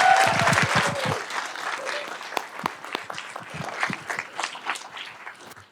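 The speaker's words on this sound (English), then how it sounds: "Can we give them another big round of applause for taking 2nd place?" At a school board meeting, the audience applauds a team that took second place at state. A voice speaks at the start, then scattered claps grow into a looser round that carries on at moderate volume, with individual claps standing out.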